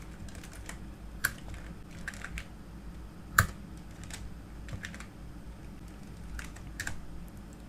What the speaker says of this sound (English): Now type again